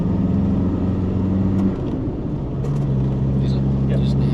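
Four-wheel drive car in high four rolling along a gravel road during a charity rally, a steady loud engine and tyre rumble throughout with a slight dip midway, voices talking over it.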